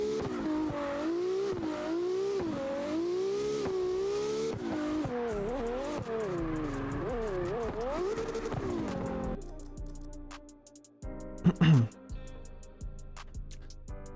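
A Nissan Laurel drift car in CarX Drift Racing revs on a dyno stand, its engine climbing and falling in repeated surges, then cutting to sharper mechanical bursts near the end.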